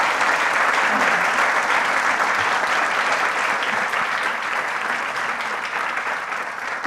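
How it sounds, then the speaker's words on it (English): A conference audience gives the two speakers a long, even round of applause, dense and continuous for about seven seconds before easing slightly at the end. "I think we can have a big round of applause for the two speakers"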